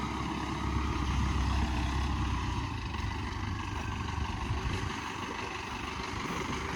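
An MTZ tractor running on three wheels drives along with a steady, loud, low engine rumble that continues without a break.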